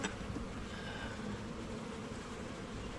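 Honey bees buzz inside an open hive during a spring inspection, a soft, dense, steady hum filling the whole stretch without talk, fairly faint and even throughout.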